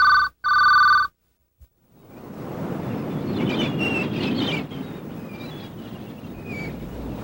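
GTE Smart Ring distinctive telephone ring: two loud, close electronic ring bursts in quick succession, then silence before an unrelated windy outdoor ambience takes over.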